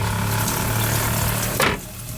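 A camper van's onboard water pump hums steadily in a small enclosed space, with a brief gush of running water near the end before the motor drone continues.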